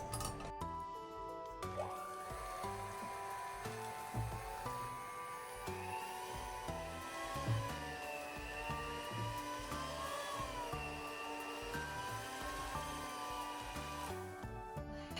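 Electric hand mixer working bread dough after salt and butter are added, a continuous high motor whine with beaters clinking and knocking against the bowl, steady and close throughout.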